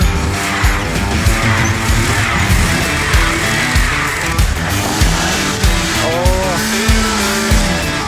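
A Hyundai Sonata with 104,000 miles stuck in deep snow during a -24 Chicago winter revs hard, its engine roaring loud and close with repeated pulsing surges as the tires spin and squeal.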